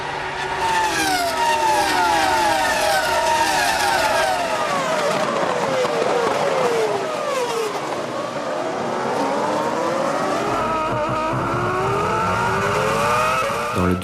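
Formula 1 cars at the 2005 French Grand Prix race start: a loud, continuous pack of high-revving engines whining and sweeping up and down in pitch as the cars pass close by.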